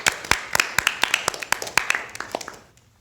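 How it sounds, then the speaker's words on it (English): Hand clapping from an audience at a school workshop on Bharatanatyam dance, a quick irregular patter of close claps that thins out and stops near the end. "everyone please give a round of applause for them"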